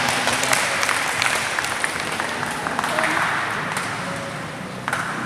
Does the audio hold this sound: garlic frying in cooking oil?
no